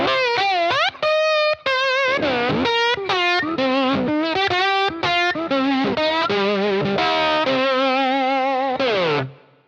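Slide guitar played through a Telecaster single-coil pickup with the volume up and the tone knob at half, aiming for a classic slide tone: singing, overdriven notes with wide gliding bends and vibrato, loud and continuous with no talking.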